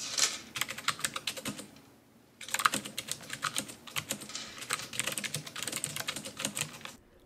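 Logitech G815 mechanical keyboard typed on up close, a fast clatter of crisp key clicks in bursts with a short pause near the start, no voices.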